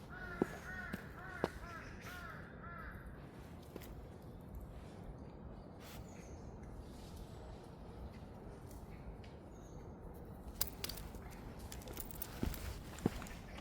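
A magpie gives a few harsh, chattering calls near the start, then quieter ones, heard outdoors on a walk over a steady wash of ambient noise with occasional faint clicks.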